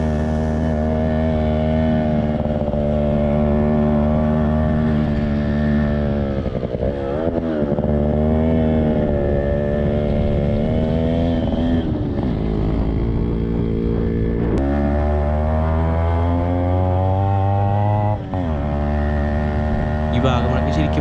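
A motorcycle climbs and descends misty hill roads near the Vagamon pine forest, its close, steady engine drone rising and falling in pitch with each change of throttle, while someone talks over it.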